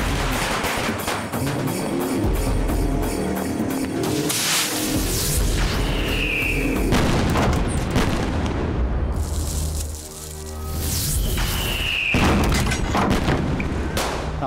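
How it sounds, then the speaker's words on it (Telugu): Firecrackers burst at a village temple festival in a film scene: repeated loud booms and sharp cracks rising out of a dense, continuous roar, with a brief lull near the middle before the barrage resumes. "టపాకాయలు చప్పుడురా"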